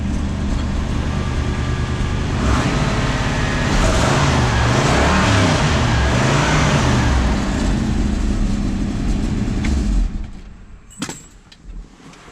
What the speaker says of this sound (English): Again, engine sounds great.